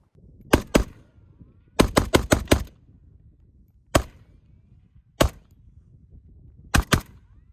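AK rifle shots crack out on an outdoor shooting course in sharp, isolated reports: a quick pair, a rapid string of five, then single shots and a final double, each loud and close with short decays.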